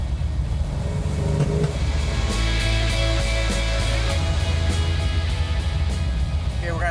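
A Dodge Challenger R/T with a 440 Six Pack V8, three two-barrel Holley carburetors and a 4-speed roars steadily while driving at about 50 mph. The deep, continuous engine drone is loud and close, with a voice faintly over it.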